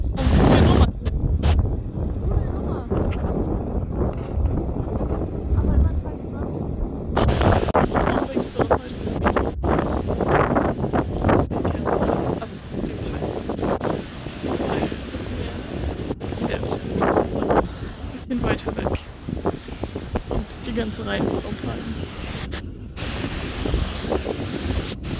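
Storm wind roars across the sea while big waves crash and surge close by, a continuous loud buffeting rush with gusts battering the microphone throughout, no voices.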